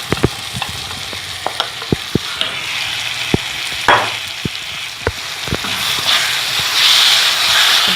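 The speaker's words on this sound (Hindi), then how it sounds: "मैश हुआ ये बैंगन सारा हम इसमें ऐड कर देंगे।" Mashed brinjal for baingan bharta hits a hot pan and is stirred, a continuous close sizzle and hiss broken by repeated sharp scrapes and taps of the spoon against the pan.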